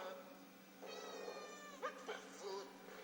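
A cat meows a few times, drawn-out and whiny, close by and fairly quiet against a faint background hum.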